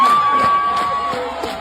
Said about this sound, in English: You hear the crowd, Dave?